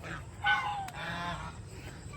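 Geese honking nearby on a rural property, a few loud nasal calls in quick succession with outdoor farm ambience behind them.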